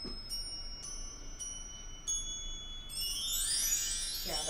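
Bell-like chimes struck with a stick, several separate high ringing strikes each decaying slowly, then a brighter shimmering cluster of tones near the end, faint and heard alone.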